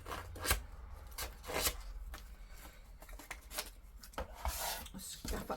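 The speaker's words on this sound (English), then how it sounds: "scuff up the edges of this one as well" Edges of craft paper being scuffed up by hand, heard as close, dry rubbing and scraping strokes in irregular bursts, fairly quiet, with no talking.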